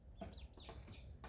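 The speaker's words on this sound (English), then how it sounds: "This is a baby turkey, everybody." A baby turkey poult gives a few short, high peeping calls up close, with brief gaps between them and no talk.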